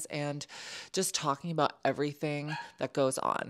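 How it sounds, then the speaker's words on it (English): A pet dog barks in the background of an indoor chat, a few yips and woofs buried under steady close-up talking. "And if you hear any barking"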